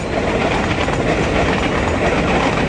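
A train rolls past near Depok station, a loud, steady rumble with rhythmic clickety-clack of wheels on rails, heard close and continuous without any talking.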